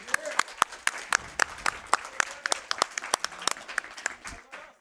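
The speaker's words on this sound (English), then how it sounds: "You can all give yourselves a round of applause." Audience at a speedrun event clapping, a sparse round of separate, distinct hand claps from a small crowd, moderately near and uneven in rhythm for several seconds.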